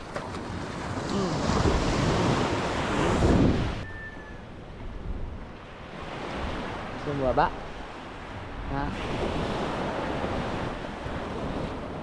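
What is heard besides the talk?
sea waves on a beach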